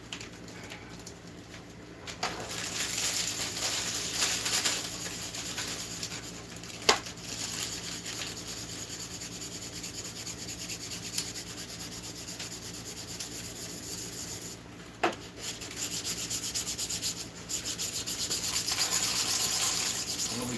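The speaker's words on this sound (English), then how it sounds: "What we got here is a 320, I believe, sandpaper, super fine grit. Trying to get it all smoothed out." Super fine 320 grit sandpaper rubbed steadily back and forth to smooth a surface, a continuous close scratchy hiss with a few sharp knocks and no talking.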